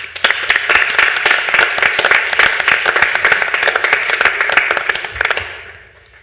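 A conference audience bursts into dense, crisp clapping for the organizer, loud and close for about five seconds before tapering off quickly into quiet.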